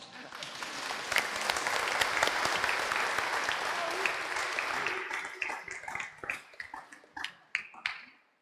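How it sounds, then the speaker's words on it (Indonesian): A church congregation applauds at an Easter Sunday Mass, a dense, steady wash of many hands clapping for several seconds, then thinning into scattered claps and a few last sharp strokes before fading out. "Kita beri tepuk tangan untuk mereka."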